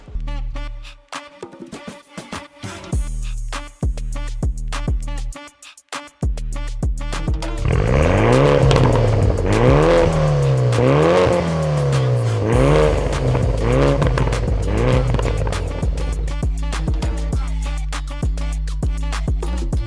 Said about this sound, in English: this car right now has a resonator delete and a smaller muffler than the original muffler